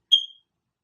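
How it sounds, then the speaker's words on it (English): A fire alarm gives a single short, high electronic chirp that fades quickly into silence. "they really think it's the fire alarm"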